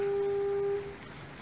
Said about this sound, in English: And that's the foghorn out on the very end.